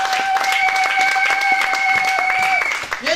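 A church congregation at a mothers' convention applauding, with brisk, rhythmic clapping close by over a sustained held tone and some voices.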